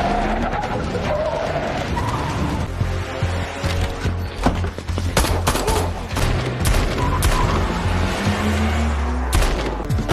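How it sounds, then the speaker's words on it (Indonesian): Special forces troops open fire in a movie action scene, a dense, loud barrage of gunshots and bursts crackling continuously with vehicle and impact noise mixed in. "ditembak habis-habisan oleh para pasukan di sana."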